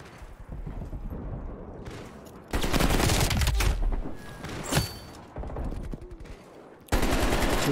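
AK-47 automatic fire in Black Ops Cold War comes in loud, rapid bursts of shots, cut apart by short quieter gaps, with one heavier thump partway through.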